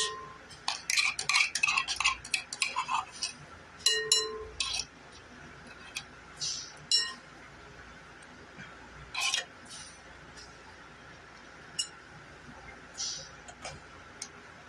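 A spoon scrapes and clinks inside a jar while getting out the last of the contents for a squash casserole, with a series of short, close metallic ticks and scrapes coming in bursts and spaced taps.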